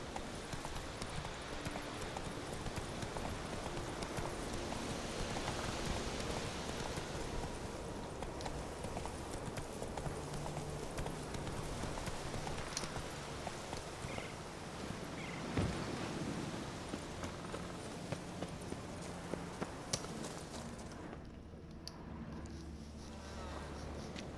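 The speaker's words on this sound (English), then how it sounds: "Whoa there, Roach." A horse's hooves clip-clop in a steady, continuous rhythm in The Witcher 3 video game, close and fairly loud over a dense wind and sea ambience for most of the stretch.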